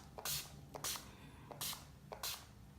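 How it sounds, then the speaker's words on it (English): Several short, loud hissing bursts of a makeup setting spray called 10 Years Younger, pumped in quick pairs with brief pauses between them, close to the microphone over a quiet background. "the last thing that I'm going to do is add my setting spray"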